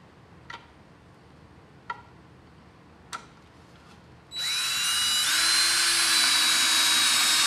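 A power drill drives a screw into 3D printed plastic: a few sharp ticks first, then the motor whines up steadily and keeps running loud and close to the end.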